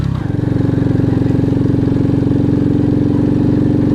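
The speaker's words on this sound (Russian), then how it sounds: "Газ на полную я не даю," An Alfa moped engine runs under load in first gear on an uphill climb in rural Russia, a loud, steady, fast-pulsing mid-pitched putter that settles into an even drone after a brief change at the start.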